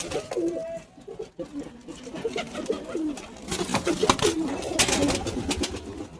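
Young pigeons, a female and a male chick among a pigeon collection, coo in repeated soft rolling calls, close by and fairly steady, with faint background noise throughout.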